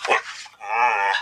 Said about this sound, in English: What was that? That's the dog.